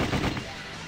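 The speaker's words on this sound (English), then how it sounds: "the hallway was filled with the sound of gunfire" Gunfire from the visual novel game Sweet Fuse fires as a brief, dense burst of rapid shots in a hallway scene, fading into a low, steady rumble.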